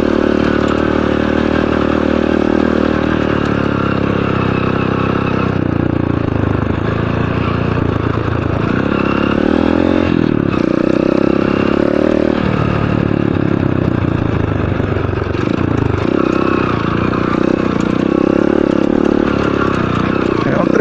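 An off-road trail motorcycle climbs uphill on a dirt trail near a lookout in Senador Georgino Avelino, its engine droning loudly and continuously with clattering surges as the throttle shifts.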